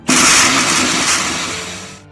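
A blender roars on abruptly, grinding green chutney with a little water loudly for about two seconds before cutting off.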